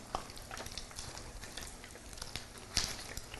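Food fries in a pan on a home cooking set, a faint, steady crackling hiss with scattered small pops and one sharper burst near the end; no one speaks.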